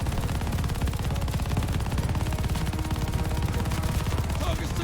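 Continuous rapid gunfire from the Call of Duty Vanguard video game, steady and loud throughout with dense overlapping shots, with a voice faintly underneath.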